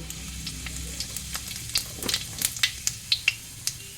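Whole spices, cinnamon, cardamom pods, dried red chilli and cumin, sizzle and spit in hot white oil in a pan. A steady close fry hiss carries sharp irregular pops and crackles that grow more frequent.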